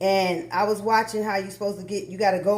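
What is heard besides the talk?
None of the usual background noises is heard.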